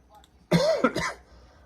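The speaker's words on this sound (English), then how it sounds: "Just got to cough real quick." A single raspy smoker's cough, a short double burst close to the microphone in an otherwise quiet room.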